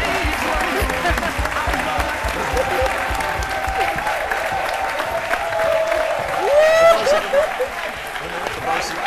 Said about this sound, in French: On applaudit très très fort pour le vieux Ménécré